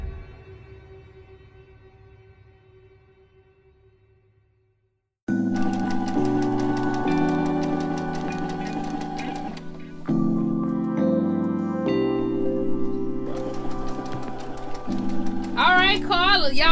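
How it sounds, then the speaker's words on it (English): A sewing machine hums and runs steadily at close range, starting after a quiet stretch, with a few brief pauses and changes in pitch. "She is on her sewing machine for the first time."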